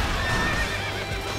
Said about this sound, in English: If you hit too many guys with your horse, you'll kind of rear up like that and lose some momentum